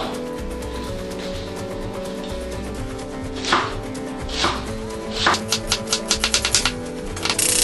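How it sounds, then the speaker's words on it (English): A knife chops onions, peppers, ginger and chili on a board. Scattered close, crisp strikes build into a rapid, evenly spaced run of chops near the end. "Need to chop the onions and the peppers and the ginger and the chili."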